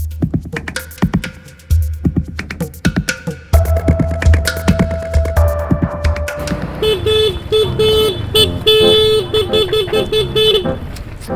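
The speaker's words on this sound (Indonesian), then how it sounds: "buat apa lo bunyiin klakson sekeras itu" Car horn honking loudly in a street scene, a run of sharp blasts and toots at first, then a sustained, repeated wailing horn pattern that grows louder and denser toward the end.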